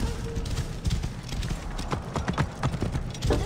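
Steady clip-clop of horse hooves trotting close by in the video game Assassin's Creed: Origins, with a faint whinny in the background and a bit of distant speech.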